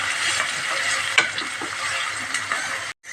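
Onions sauté in a pan for vegetable idli, a steady close sizzle of frying with occasional clicks from stirring and a sudden brief drop near the end.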